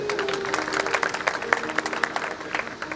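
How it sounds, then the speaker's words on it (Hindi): An audience at a church celebration for a bishop's 25th ordination anniversary on Mission Day gives hearty applause, a dense, steady patter of many hands clapping at once for the full few seconds. "जोरदार तालियां"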